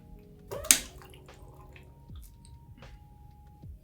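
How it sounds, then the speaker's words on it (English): A hydrogen water bottle cap works on a water bottle, giving a sharp click followed by soft bubbling, squishy drips and small gurgles, close and fairly quiet. "This is a special cap that injects the hydrogen into the water bottle."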